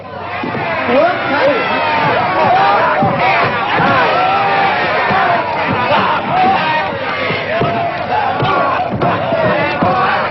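A rowdy crowd of onlookers at a fistfight in a western film shouts and hollers nonstop, many voices overlapping in a loud, dense din with occasional thuds, sustained for the full stretch.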